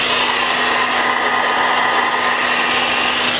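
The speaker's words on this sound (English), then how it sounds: "take the blow dryer that we have instead of the heat gun, just put it on warm, low," A blow dryer runs on a warm, low setting, giving a steady, loud whooshing hum with a constant motor whine and no other sounds, close by.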